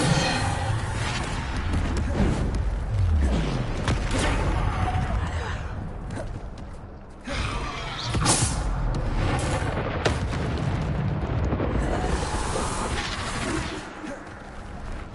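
Explosion spells go off in a Hogwarts video game amid dense combat noise: heavy booms and blasts burst repeatedly over a rumbling, busy mix, with a voice speaking at times.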